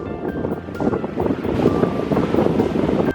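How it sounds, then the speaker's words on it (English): Strong cold wind on the rough Estonian north coast, gusting and buffeting the microphone with a low roar that builds louder partway through, waves and sea churning underneath. "the sea was quite rough and it was really windy and cold"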